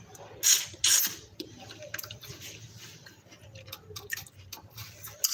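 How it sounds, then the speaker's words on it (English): Close, crunchy chewing on frozen food with crisp bites and moist squishing sounds, irregular and intimate, with no talking. "Does anyone enjoy chewing on frozen things like me?"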